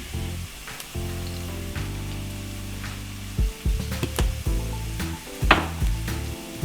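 Onions and spices, including Portuguese spice, sizzle in a pan for a chakalaka, with a steady frying hiss broken by scraping stirs and clinks near the end, loud and close, with no talk.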